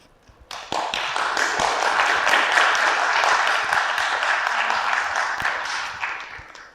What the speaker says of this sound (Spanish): gracias por esos aplausos